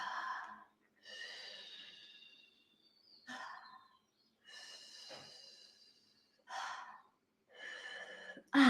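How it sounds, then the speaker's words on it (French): Slow deep breaths, close and clear, with long airy inhales and exhales in separate bursts and quiet pauses between them. "On va peut-être déjà respirer avec ça."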